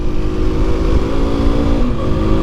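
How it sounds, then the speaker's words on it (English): An FB Mondial HPS Ubbiali 125cc motorcycle with a brand new engine rides along a road, its engine note a steady, loud, continuous drone with a constant low hum and no pauses. "we're not going to go revving the nuts off it, because you've got to treat a brand new engine well"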